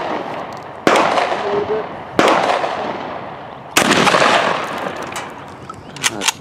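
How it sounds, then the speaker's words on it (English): Three loud, sharp 12 gauge slug blasts from a Mossberg 500 shotgun fired outdoors at a giant chunk of concrete, each crack followed by a decaying echo, with brief talk near the end. "That's what a 12 gauge slug can do."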